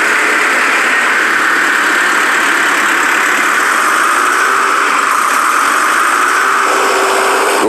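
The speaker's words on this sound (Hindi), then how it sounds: "एक वर्कर तैयार ट्रैक्टर को रोड टेस्ट के लिए ले जाता है।" A newly assembled tractor's engine runs steadily for its road test, a constant loud, even drone with a faint rising whine near the end and no talking.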